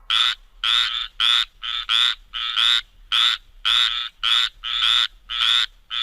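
A frog croaks in a steady rhythmic series of about a dozen loud, buzzy calls, each roughly a third of a second long, with short gaps between them.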